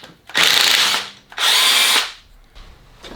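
Two sharp bursts from a power tool, each about a second long with a brief gap between, loosen the wheel fasteners on a Ford Escape up close, followed by a faint clink.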